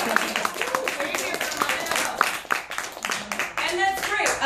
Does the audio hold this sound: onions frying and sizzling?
no